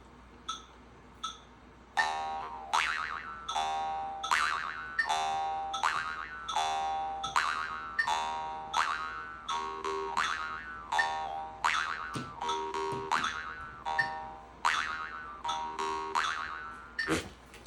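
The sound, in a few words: jaw harp playing boing sounds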